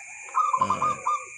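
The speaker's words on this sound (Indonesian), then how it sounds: "burung perkutut yang bisa berbunyi pada tengah malam" A zebra dove coos softly in a short run of rounded, hollow notes over a faint steady background hum.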